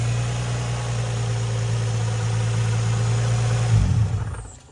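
Infiniti G35 car engine idling with a loose belt tensioner pulley, a steady close low hum that runs evenly for several seconds before sputtering and dying away as it is switched off.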